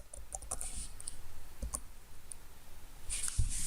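Typing on a computer keyboard while entering a local web address, with a scatter of light, quick key clicks at irregular intervals over a steady low background hum.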